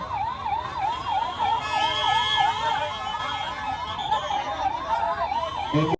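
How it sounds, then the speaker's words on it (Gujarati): A wailing ambulance siren rises and falls steadily, loud and close, with traffic rumble underneath. "ઇમરજન્સી એમ્બ્યુલન્સ વાહનને તાત્કાલિક જગ્યા આપવા માટે વિનંતી છે"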